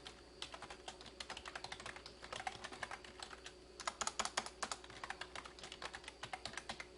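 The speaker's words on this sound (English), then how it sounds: "And type her assignment." Close, quiet typing on a computer keyboard as an assignment is written, a steady run of light key clicks that comes in uneven bursts, with no voices.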